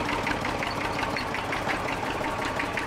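A tractor engine running steadily, a continuous mid-pitched rumble with rapid rhythmic knocking pulses, fairly close and constant throughout with no voices.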